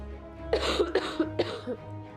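A person coughs in a short burst of four or five harsh, closely spaced coughs, close and fairly loud, with a quiet background hum and no speech.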